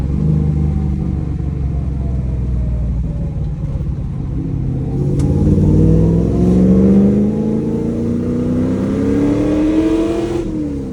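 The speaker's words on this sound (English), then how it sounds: "this truck's super fun to drive around town" An old truck's engine revs and pulls through second and third gear while cruising town streets on a rough road, a steady close rumble with rising and falling pitch as it accelerates and shifts.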